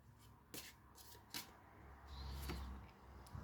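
Tarot cards shuffled by hand in a few quick riffling bursts, soft and close, with low background rumble and no talking.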